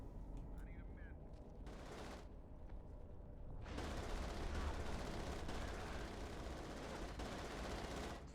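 Heavy machine gun fire in a multiplayer shooter match, dense rapid bursts that swell and pause in loud stretches against a rumbling battlefield background.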